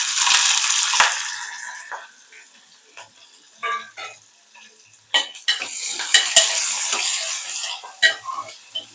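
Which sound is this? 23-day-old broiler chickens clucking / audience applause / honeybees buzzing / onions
onions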